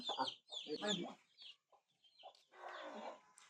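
A local village rooster in Nepal clucks and squawks in several close bursts with short pauses between them, followed by a longer raspy call near the end.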